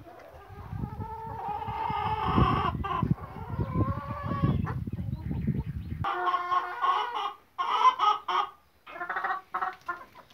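Hens cluck steadily at close range in a coop where several are laying eggs, with overlapping calls and short fowl cries continuing throughout and no talking.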